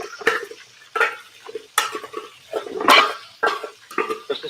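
Thick curry paste scraped and tipped into a separate frying pan for a crab curry, heard as a run of close clattering knocks and scrapes of utensil against metal with short pauses between, no talk.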